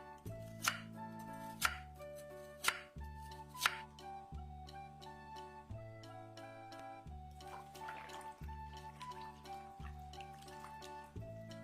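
A knife slices peeled lotus root into pieces about 0.5 cm thick, with four crisp chops early on and fainter cuts later, all beneath steady background music.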